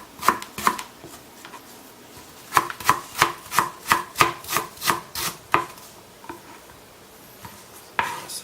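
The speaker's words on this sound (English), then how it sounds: "So what I'm doing here is just going through and chopping." Knife chopping a red onion on a board while making pico de gallo: a quick burst of crisp cuts, a pause, then a steady run of about ten even, close, sharp chops, followed by a few scattered knocks.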